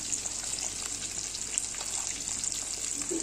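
Katla fish pieces, rubbed with salt, turmeric and a little oil, fry in hot oil with a steady, dense crackling sizzle that carries on evenly throughout, with no voices.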